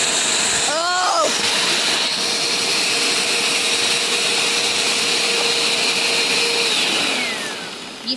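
A vacuum cleaner runs with a stick jammed inside, a loud continuous rushing whine with a rising-falling tone near the start and a steady drone that tapers off near the end.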